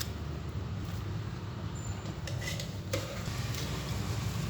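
Grated taro being dry-roasted and stirred in a pan over low heat with sugar and coconut milk, a continuous soft scraping and rustling stir with faint sizzling and occasional light clinks of the utensil against the pan.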